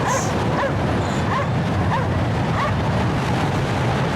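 Dogs bark in short repeated yips at a steady pace, about every half second, over a constant low rumble of engine or wind noise aboard a large frozen ship in the video game Cryostasis.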